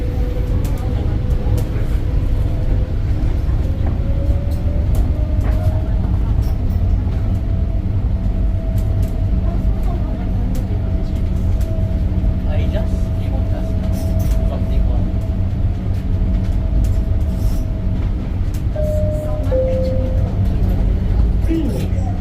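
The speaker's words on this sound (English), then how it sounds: "I flip the phone, and there it is, the old train." An Alstom Innovia APM 300R people mover train running on a debut day, with a loud steady rumble, rolling noise and a rising motor whine throughout, and people talking over it.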